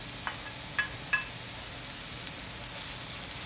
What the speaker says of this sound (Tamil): எல்லாத்தையும் ஒன்றா போட்டு ஒரு 5 மினிட்ஸ் நல்லா வதங்க விடுங்க